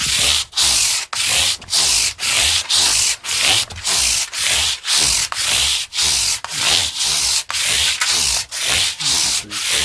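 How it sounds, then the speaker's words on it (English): Rhythmic back-and-forth sanding on a guitar body with masking tape applied, steady abrasive strokes repeating roughly twice per second, close and loud with no talk. "as soon as the masking tape lifts while you're doing the sanding, put some more on."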